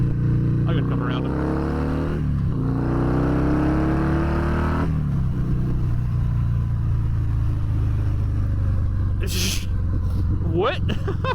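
A 2019 Harley-Davidson Fat Bob 114 motorcycle rolls on the throttle to pass a truck, its steady engine roar climbing in pitch under heavy wind rush, heard from the rider's position without a break.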